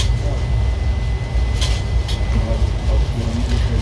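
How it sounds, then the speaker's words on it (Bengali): The Shahid Express train pulls into Ahmedpur station with a continuous loud low rumble of wheels and carriages, a faint steady whine above and brief clanks, with no voices. "এখন ট্রেনের সেকেন্ড স্টপেজ আহমেদপুরে এসে গেছে ঢুকছে এখন"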